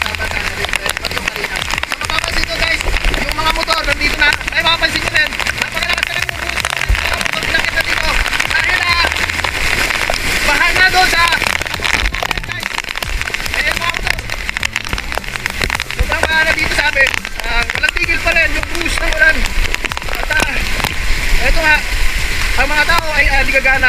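Heavy typhoon rain pours steadily in a flooded street in Barangay Tatalon, Quezon City, during Typhoon Carina, a dense continuous roar of water on surfaces with talk over it.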